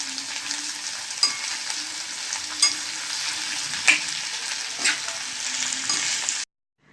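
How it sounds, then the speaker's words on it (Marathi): Cumin and coriander are stirred in a hot frying pan, a steady close sizzle broken by periodic scraping strokes of the spoon about once a second, with no talking. "जिरापूर कोथिंबीर चांगलं ढवळून घ्या"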